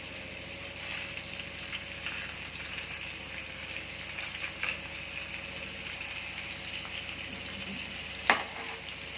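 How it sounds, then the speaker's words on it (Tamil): Onion, green chilli, curry leaves and coriander sauté in a pan for egg rice, giving a soft continuous sizzle with faint stirring scrapes and one sharper clink near the end. "சேர்த்து நல்லா வதக்கிக்கலாம்"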